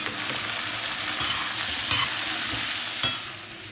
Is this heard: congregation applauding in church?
no